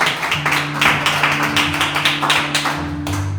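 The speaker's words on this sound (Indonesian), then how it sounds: "Tepuk tangan ya, tepuk tangan" A church congregation claps its hands in a series of quick, loud, rhythmic bursts over a sustained musical tone, with no talk.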